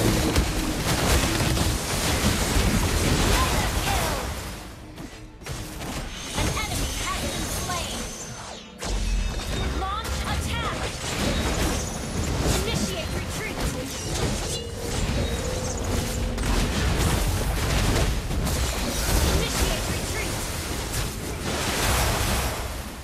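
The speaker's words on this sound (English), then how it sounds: "Ocean waves are so soothing." Ocean waves and surf wash through continuously in the Mobile Legends mobile battle game, mixed with dense game effects and music, with one brief drop partway through.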